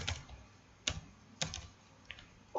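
Keys tap on a computer keyboard while a captcha is entered on an online admission form, a handful of separate clicks spread unevenly across a couple of seconds, close and fairly crisp.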